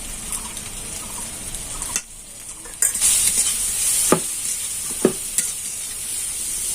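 Chopped onions with turmeric and salt frying in a pan and being stirred, a close steady sizzle broken by a brief quiet gap and several sharp scrapes of the spatula.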